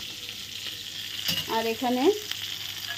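Pointed gourd (potol) frying in a pan gives a steady, close sizzle throughout, while someone speaks briefly over it in the middle.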